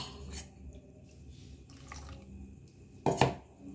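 Water poured into batter for homemade KFC-style fried chicken, a brief close splash and trickle near the end after quiet dripping and faint kitchen clatter.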